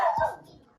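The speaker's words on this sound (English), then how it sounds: "it's a dog in the background" A single short dog bark sounds in the background over a phone or video call, brief and somewhat muffled.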